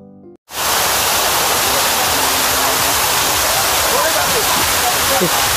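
After a brief moment of quieter sound, a loud, steady rush of water pouring down from a fountain at Hussain Sagar lake in Hyderabad, heard up close from behind the falling water.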